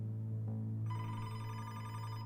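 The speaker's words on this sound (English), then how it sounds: "when his phone rang" A desk telephone rings at a police station, its bell sounding steadily over a low constant hum.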